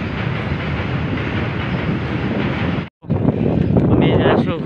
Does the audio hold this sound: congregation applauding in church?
no